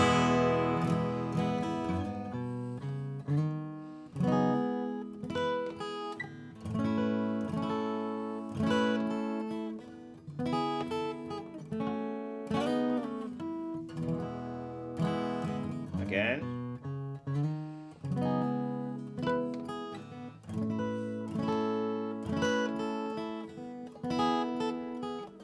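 Guitar playing a melodic lick woven through chords, with single-note runs over held chord tones, moving into strummed passages; steady and fairly loud, played alone without voices.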